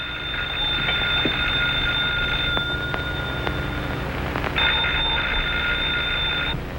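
An old-style telephone rings at night in a house on a marsh road, its bell trilling in a steady sustained burst, pausing, then ringing again over a constant low background hum, with no voices.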